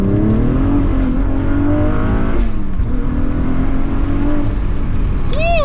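A twin-turbocharged V6 Cadillac ATS-V, modified to about 600 wheel horsepower, accelerates hard with a loud, sustained engine roar whose pitch climbs steadily, drops at a gear change, then climbs again.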